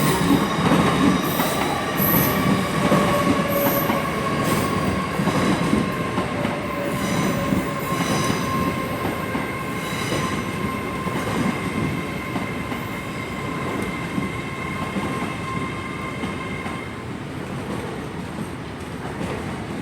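A Class 800 train rolls slowly into London Paddington station, with a long steady rumble, faint wheel squeal and tonal whine from the train, sustained and fairly close throughout.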